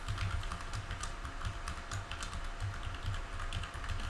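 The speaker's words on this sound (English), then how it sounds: "I'm going to enter in my password here." Keys on a computer keyboard clatter in quick, steady taps while a password is typed, close and fairly quiet, with no voices.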